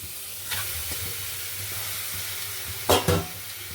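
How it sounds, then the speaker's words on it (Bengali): Chicken pieces sizzle steadily in a wok, a close, continuous frying hiss broken by a couple of brief louder bursts of spatter or stirring near the end. "দেখো, এই চিকেনগুলো আমি দিয়ে দেবো কড়াইতে।"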